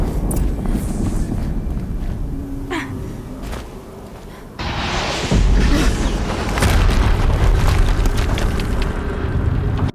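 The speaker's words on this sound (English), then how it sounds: "Explosion." A deep, rumbling explosion booms loud and close, followed by a sustained roar and low crackling debris that carries on to the end.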